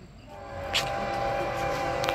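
CSX freight train led by ES44AH #3128 and K277 #5422 rolling through Fairport, New York, a steady broad rumble with faint brief higher tones, heard from trackside.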